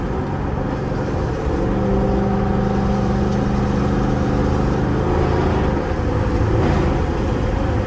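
A loud 400+ hp Dodge R/T roars along a highway at high speed, its engine and road noise forming a dense, constant rumble with a deep tone rising and falling throughout.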